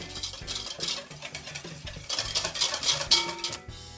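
A spoon stirring blackcurrant purée in a bowl, close light scraping and soft wet clinks in an irregular rhythm over a few seconds, with no talk.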